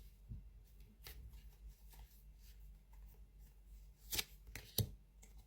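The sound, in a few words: shuffling tarot cards to draw clarifying cards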